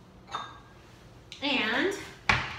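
Creamy raw vegan dill sauce is scooped into a small serving bowl, with a few soft clinks and scrapes of dishes and utensils, close by, and a voice speaking between them.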